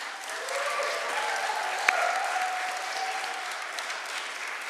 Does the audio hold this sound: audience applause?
yes